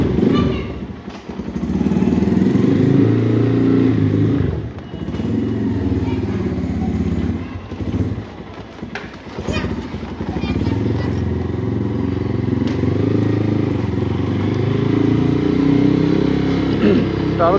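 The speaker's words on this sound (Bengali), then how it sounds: "টারোজিপি বাইকের সবচেয়ে ভালো দিক হচ্ছে এই বাইকের সাউন্ড" A Taro GP 1V3 motorcycle, a TVS Raider-style bike, idles and revs close by, a steady throbbing engine with dips and surges, while someone talks over it.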